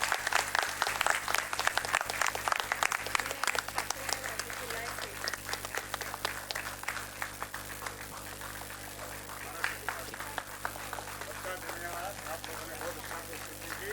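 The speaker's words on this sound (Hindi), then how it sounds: "जोरदार तालियों से स्वागत कीजिए महाराज का।" A crowd at a devotional gathering gives loud, dense applause to welcome a revered spiritual guru, a continuous roar of many hands clapping that holds steady and close throughout.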